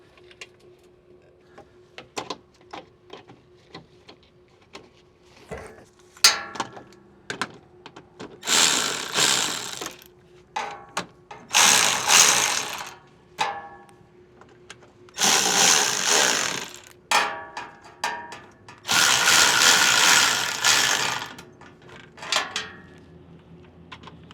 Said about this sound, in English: I like to start the bolts by hand just to make sure everything's good to go.